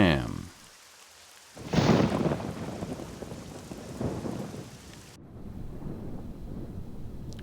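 Rain and rolling thunder from the retro point-and-click game Nightmare Frames, a steady downpour hiss with a loud thunder swell near the start and another rumble later, sitting under faint music.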